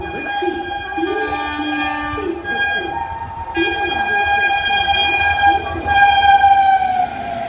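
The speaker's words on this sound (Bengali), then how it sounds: "সামনে আসছে পাটনা বন্দে ভারত হাওড়া পাটনা বন্দে ভারত এক্সপ্রেস একদম হংকিংয়ের সাথে" The Howrah-Patna Vande Bharat Express passes a railway station, its loud sustained multi-tone horn sounding for several seconds over the rumble of the moving train.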